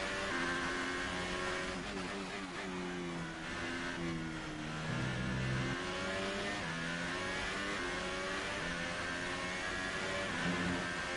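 Race car engine in F1 2018, heard during a Hungary race, revving loud and steady through rising and falling gear changes for the whole stretch, with no talking.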